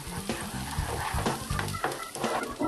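Ketchup being stirred into sautéed onion and butter in a pan, a steady frying sizzle with soft scraping and wet stirring sounds close by.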